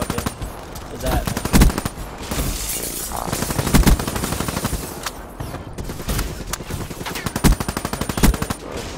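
Rapid submachine-gun fire from a two-versus-two video game match, with close, loud bursts of automatic shots stacking into dense volleys for the whole stretch.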